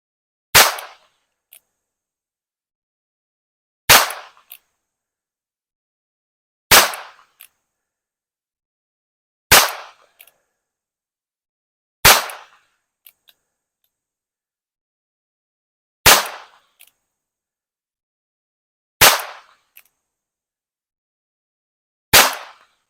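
Eight suppressed shots from a .22 Single Action Army revolver loaded with Winchester ammunition ring out, sharp, spaced cracks roughly three seconds apart, each followed by a faint click, with silence between them.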